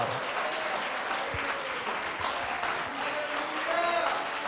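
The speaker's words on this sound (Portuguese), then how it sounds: "Aplauda o Senhor." A church congregation claps for the Lord during a worship service, a moderate, even wash of applause with voices and faint musical tones mixed in.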